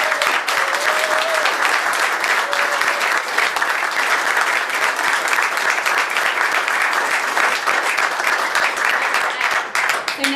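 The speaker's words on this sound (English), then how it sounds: "give Mr. Rattenbury and the ACT Greens another round of applause" Sustained, loud applause from a crowd at a Transgender Day of Remembrance gathering in Canberra, a steady roar of many hands clapping for Mr. Rattenbury and the ACT Greens, with a faint voice underneath.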